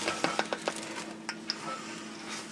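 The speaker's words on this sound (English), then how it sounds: "you can just mix this up together" A utensil scrapes and clinks against a large 12-quart bowl while muffin batter is mixed, giving a quick run of taps followed by a few sparser knocks.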